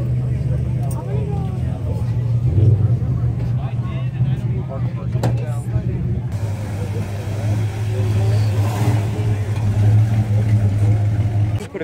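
A Mercury truck with a straight-pipe exhaust lets out a deep, loud, rumbling engine drone that swells and settles, up close, while people talk over it throughout.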